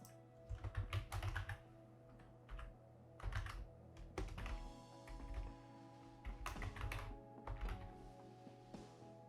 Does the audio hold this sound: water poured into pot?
no